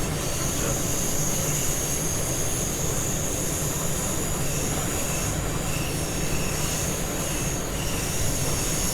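A BR425 electric multiple-unit train running in the Train Sim World 3 game, a steady loud rumble of wheels on track with a continuous high whine from the traction motors and a faint squeal, unbroken throughout.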